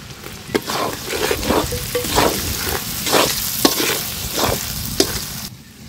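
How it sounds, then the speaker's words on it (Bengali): Onions dropped into hot oil in a village kitchen after frying fish, for a fish and drumstick curry, crackling and sizzling up close with repeated rhythmic scrapes of a spatula stirring the pan, no talk. "এবার তরকারি রান্না শুরু করার জন্য পেঁয়াজ দিয়ে দিলাম"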